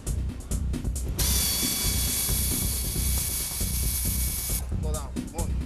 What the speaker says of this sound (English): hand cranks the left axle